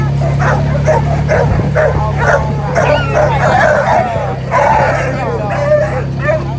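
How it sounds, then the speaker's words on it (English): A pack of deer hunting dogs kept on a rural property barks, yips and whimpers in a loud continuous chorus close by, with a person's voice mixed in. "This is the part of the property where my daddy keeps his deer hunting dogs."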